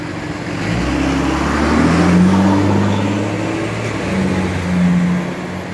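Cars passing on a city street at the corner of Fountain and Normandie, a continuous rumble of engines swelling and fading as vehicles go by close, one after another.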